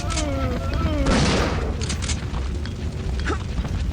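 Gunfire in Resident Evil 3 Nemesis on PC, a few loud booming shots with a burst near the one-second mark over a busy game soundtrack, under a voice talking.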